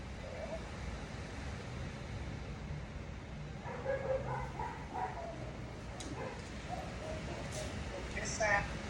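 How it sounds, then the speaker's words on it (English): Dogs bark and yip at a distance, a few faint scattered outbursts under people talking nearby. "Who are those dogs?"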